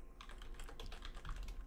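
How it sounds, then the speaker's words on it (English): Fast, somewhat careless typing on a computer keyboard gives a quick, irregular run of light key clicks, soft and close, with no one talking. "that's why I'm kind of sloppily typing this"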